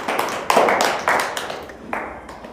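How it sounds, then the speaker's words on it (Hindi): A classroom of students claps together in quick uneven bursts, with a few scattered voices under the applause. "इसके लिए ताली बजाओ।"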